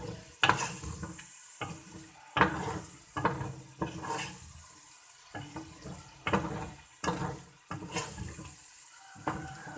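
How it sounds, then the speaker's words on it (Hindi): Egg gravy is stirred and mixed in a pan with repeated scraping strokes in an uneven rhythm, close by and without talk. "अच्छे से मिक्स करेंगे इसे"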